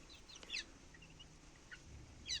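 Young chicks give soft, scattered high peeps and faint chirps at close range in an otherwise quiet space.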